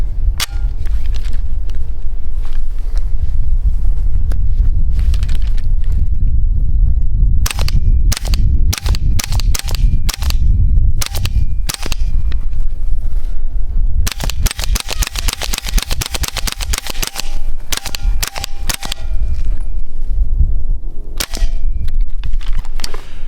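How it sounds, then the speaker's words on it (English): A Glock 34 pistol firing subsonic ammo: loud, sharp shots ring out one after another, some spaced apart and some in quick strings, with no talk. "Okay, I got some subsonic ammo here. We'll see how this runs."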